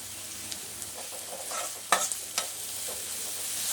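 Cabbage and cauliflower rice frying in a pan as it is stirred, a soft steady sizzle broken by a few sharp scraping clinks of the spoon against the pan, close and fairly quiet with no talking.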